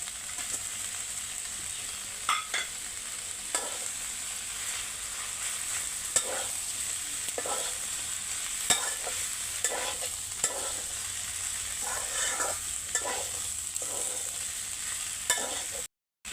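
Pre-fried jackfruit, pulao rice and oily masala are stirred in a frying pan. A steady sizzle runs throughout, punctuated by repeated scraping and clacking strokes of the spoon, close by and uninterrupted by speech.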